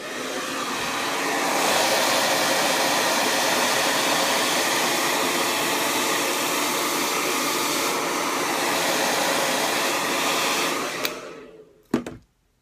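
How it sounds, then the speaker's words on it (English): Handheld hair dryer blowing steadily on frizzy, curly hair while a brush pushes through it, a loud continuous whooshing roar for about eleven seconds before it cuts off with a brief click and rustle. "That's how you're going to blow dry to get all these smooths out."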